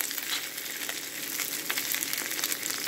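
Meatballs frying together with bacon lardons in a pan, producing a dense, steady crackling sizzle at close range with small spatters.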